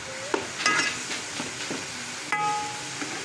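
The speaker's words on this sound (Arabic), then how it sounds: "وهنقلبه لما يحمر ونضيف عليه اللحم" Meat stirred and frying in a pan of ghee, with a soft sizzle under scraping spoon strokes and a few sharp clacks of utensil on pan, close and fairly quiet.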